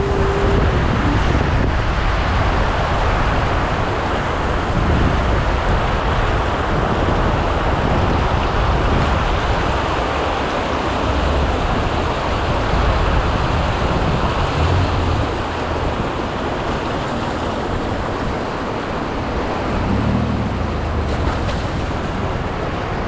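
A Ford Escape SUV on worn, bald road tyres drives off-road, giving a dense, loud, unbroken rumble and roar mixed with wind buffeting on the microphone, with no talking.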